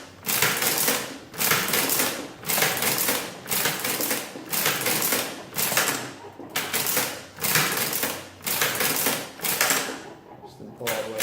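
Handle of a Burroughs Class 1 adding machine is pulled and springs back over and over, a loud close clatter of mechanism repeating about every second and a quarter, with a voice talking underneath.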